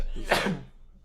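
A single short sneeze bursts out indoors, sharp and close, then fades quickly into quiet room tone.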